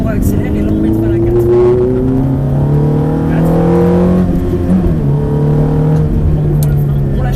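A Ferrari F430 accelerates hard on a race circuit, its engine note climbing through the revs from inside the car, loud and continuous, with a shift and renewed rise near the end and a voice talking over it.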